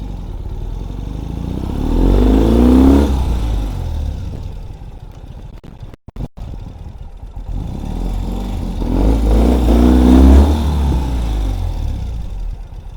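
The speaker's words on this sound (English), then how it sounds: "The first gear pops right in, and the moment you release the clutch, the fun begins." A 2021 Ural Gear Up motorcycle engine pulls away twice, each time swelling into a loud, close, throaty mid-pitched surge with clatter, then easing off between the two runs.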